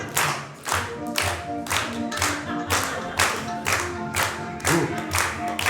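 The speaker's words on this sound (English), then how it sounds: "Feel free to clap along" Audience at an evening circus performance clapping along in steady rhythm, a dense, close group of hands beating a regular pulse of claps alone without talk.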